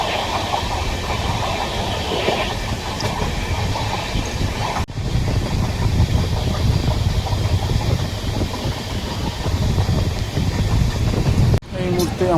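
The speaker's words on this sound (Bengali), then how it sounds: "তো চলছে আমাদের ট্রেন মোটামুটি" The Akal Takht Express 12317, bound for Amritsar, rumbles along at speed in a loud, continuous roar of wheels and carriage noise, broken by two sharp jolts.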